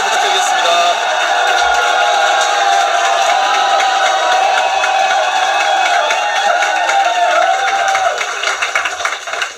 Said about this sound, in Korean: 정현미 교수님 한 번 더 큰 환호 부탁드리겠습니다.